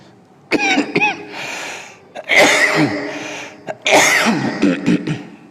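A person coughs and clears their throat in several harsh bursts during a pause in an Islamic study lesson, loud and close with short gaps between the fits.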